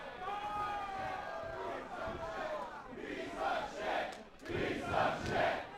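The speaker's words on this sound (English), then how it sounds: "The crowd telling Johnny just exactly what they think of him" Crowd at an indie wrestling show jeering at a wrestler named Johnny, loud rolling shouts and chanting in swelling waves, with a commentator talking over it.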